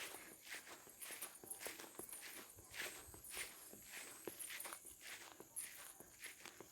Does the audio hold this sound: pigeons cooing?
no